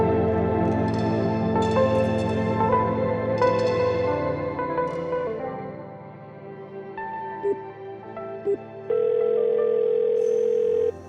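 A phone tone repeats over and over with no answer, electronic beeps and a long steady tone near the end, no voices.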